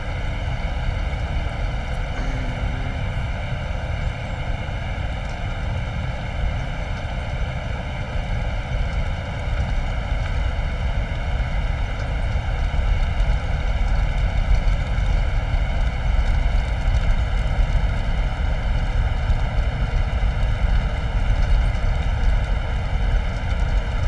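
Embraer Phenom business jet taxiing in a flight simulator game: a steady, continuous turbine whine with a low rumble runs throughout, growing slightly louder partway through, with no talk.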